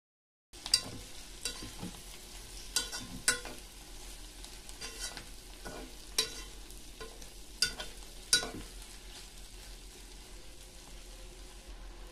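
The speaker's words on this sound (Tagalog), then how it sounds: "Ipagpatuloy lang po natin ang paghalo." Beef pares being stirred in a pan, with sharp spoon scrapes and knocks recurring every second or so over a quiet, steady frying hiss.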